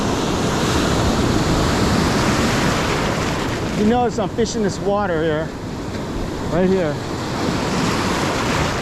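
Ocean surf rolls and washes at a San Diego beach during fishing, a constant loud roar of breaking waves with wind buffeting the microphone, and someone speaks briefly over it in the middle.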